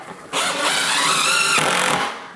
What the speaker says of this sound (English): So I'm just gonna throw some screws in here too.